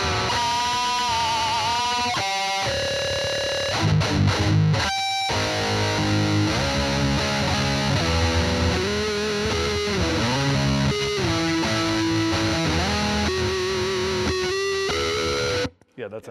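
Electric guitar through Fender overdrive and distortion pedals, heavily distorted, playing sustained chords and riffs, loud and continuous, with a thick mid-range tone and a few brief breaks.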